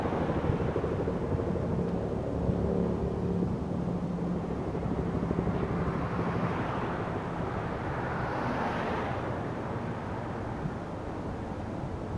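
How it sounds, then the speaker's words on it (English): Loud helicopter passing overhead near the Nepean River at Penrith, a continuous rumbling rotor roar that swells and fades slightly, with wind buffeting the microphone. "here comes a chopper. Sounds like Vietnam. I don't know if that's coming through, but that is one loud chopper"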